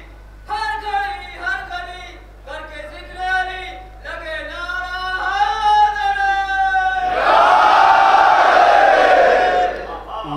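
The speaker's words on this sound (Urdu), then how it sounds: "ایک نعرہ حیدری باواز بلند عنایت فرمائیں۔" A crowd at a Majlis-e-Hussaini gathering roars the Nara-e-Haidari slogan in unison, a loud sustained collective shout that swells after a man's sung, drawn-out call.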